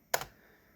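A single quick keystroke burst on a computer keyboard while setting up teletext on a Raspberry Pi, a short close clatter of a couple of key presses followed by quiet room tone.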